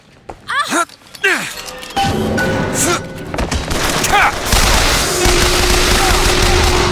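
Gunfire bursts from the video game Bioshock Infinite, loud rapid shots and impacts mixed with shouting voices and game effects, continuing densely throughout.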